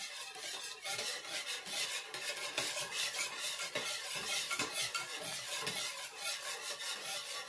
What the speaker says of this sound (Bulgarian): Замесваме хубаво тесто с цяла ръка.